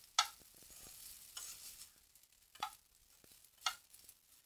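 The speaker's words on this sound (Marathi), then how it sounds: "शेंगादाण्याचं कूट आणि साबुदाणा व्यवस्थित मिक्स करून घ्यायचा आहे आपल्याला" Sabudana khichdi mixed with crushed peanuts in a pan, a spoon scraping and stirring in a few soft bursts with faint sizzling between, close and quiet with no voices.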